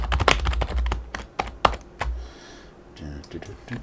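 Bursts of rapid typing on a recently repaired computer keyboard with some sticky keys, loud close clicks in uneven runs, with a pause and some quieter tapping in between.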